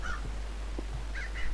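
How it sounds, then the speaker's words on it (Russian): A crow caws in the horror video game Hello Neighbor: Hidden Spirits, with a few short harsh calls near the start and end over a steady low background hum. "А ворона где? А, вот она."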